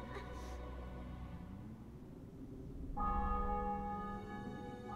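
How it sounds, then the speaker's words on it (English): Church bells ring in a conquered city in the Witcher 2 video game, a sustained resonant peal that swells partway through and keeps ringing, with no speech over it. "Bells, your triumph is complete."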